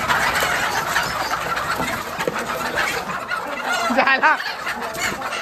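Frightened hens clucking in a yard, several birds squawking and cackling in agitated overlapping bursts near the listener, rising to sharp repeated calls toward the end, with a brief spoken word.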